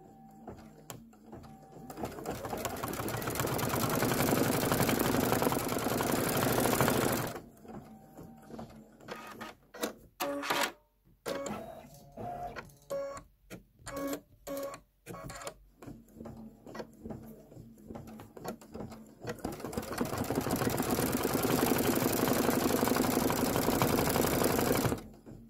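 Embroidery sewing machine stitching a basket design, a steady rapid mechanical whirr near the start and end, with choppier stop-start stitching and clicks in the middle, close and alone.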